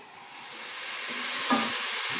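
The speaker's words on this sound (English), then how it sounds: "You can hear those vegetables sizzling away" Carrot, celery and onion sizzling steadily in hot oil in a pot for ragù, a bright continuous hiss close by that swells slightly, with a brief stir partway through.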